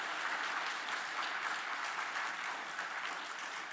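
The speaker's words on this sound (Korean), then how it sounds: "오늘 우리 교회 등록에 우리 환영의 박수 부탁드리겠습니다" A church congregation at a morning worship service claps in welcome for newly registered members, a soft, even wash of many hands heard from a distance.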